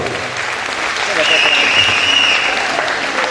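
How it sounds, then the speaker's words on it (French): Applause from a French awards evening audience for Caroline, a jury member. A steady wash of many hands clapping builds slightly and holds, loud and close, with a thin tonal whistle running through the middle. "applaudissements aussi pour Caroline"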